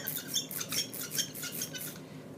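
A brayer rolls over a tray in a steady back-and-forth rhythm, giving close, sticky squeaks with a faint crackle and no voices.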